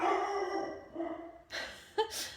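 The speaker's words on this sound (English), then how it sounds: "Dog alarm." A dog barks nearby, a drawn-out bark followed by two quicker, sharper yaps.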